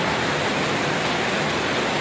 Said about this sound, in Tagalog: Kusog ang ulan.